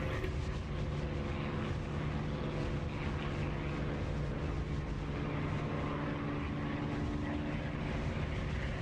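Air tanker refuelling aircraft in the DCS flight simulator, its engines a constant loud droning roar with a steady hum that continues without break, with no speech.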